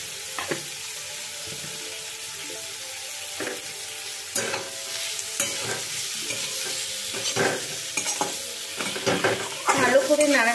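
Fried potatoes with salt tossed and stirred in a hot kadai for peas dhoka, a low sizzle under repeated scraping and clattering strokes of a spatula that grow busier and louder toward the end, with no voices.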